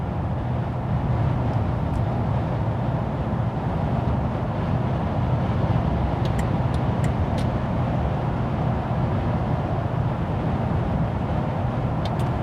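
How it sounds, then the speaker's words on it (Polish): Steady broadband road and tyre rumble inside the cabin of a Mercedes-Benz GL 420 CDI SUV on the move, a constant low drone with faint wind hiss and no talking. "Sprawdźmy, jaki jest hałas w kabinie."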